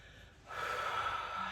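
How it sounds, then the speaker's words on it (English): A single deep breath drawn in during a yoga session, a soft airy inhale that starts after a brief quiet moment and holds steady, close to the microphone with no talking. "So take a deep breath."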